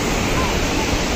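Heavy water crashing down at Tiger Waterfall in the Uttarakhand mountains, swollen during flood season, a dense steady roar filling the whole clip without pause.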